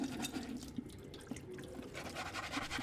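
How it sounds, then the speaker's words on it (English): Water drains and trickles through a sieve as soil is washed and pressed during wet sieving, a soft, continuous splashing and dripping heard close by at low volume. "you can see the water which is coming out."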